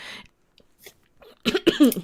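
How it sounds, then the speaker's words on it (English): A couple of sharp, close coughs burst out after a near-silent pause, rough and throaty, with a faint breathy sound at the start. "I'm gonna start coughing"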